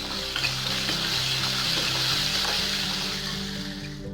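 A spiced green peas kurma base sautés in a pan, making a short, even, strong sizzle with soft stirring scrapes beneath it that fades slightly at the end.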